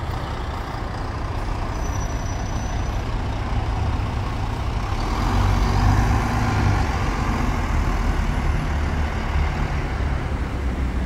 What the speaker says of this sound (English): 37359, our final bus.